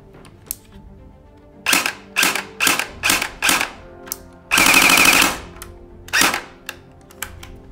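A JG G36 airsoft gun running on a 7.4 volt LiPo battery fires close and loud: a string of sharp single shots, then a short rapid full-auto burst, and one last shot.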